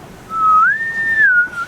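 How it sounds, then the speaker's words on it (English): A single steady, tonal whistle of wind in sailboat rigging during an ocean storm at night, rising and holding, sustained for over a second. "You also hear the like whistling of the wind on the rigging, which is just very eerie."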